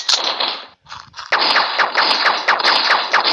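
Rapid gunfire from a blocky Minecraft-style crafting game, bursts of repeated shots firing almost continuously at close range, with a short gap near the start, loud and without talk.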